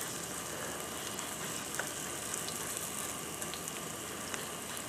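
Potato lace pancakes, about a quarter cup of batter each, frying in a large hot skillet make a steady, soft, even sizzle with faint crackles and no voices.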